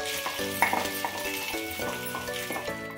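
Banana stem pieces hit two tablespoons of hot oil in a kadai and fry with a continuous sizzle, alongside a few light utensil clinks and a faint steady hum.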